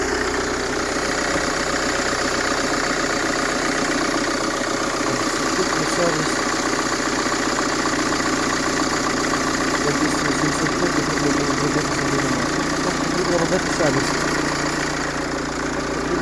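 A 2009 Mercedes Vito 115 CDI diesel van with automatic transmission idling: a steady, even mid-pitched engine hum with a faint rhythmic diesel clatter, holding constant throughout.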